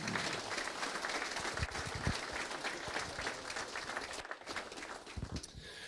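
Crowd at a racing hall of fame induction gives a sustained round of applause, dense clapping with a few sharp nearby claps, continuing steadily without talk.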